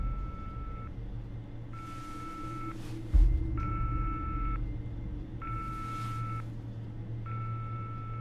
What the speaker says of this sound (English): ghost phone. Those are never good. Always prank calling you.